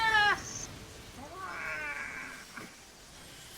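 A cat lets out a short, close caterwauling growl that rises and falls, followed by a softer drawn-out yowl, fairly quiet with no talking.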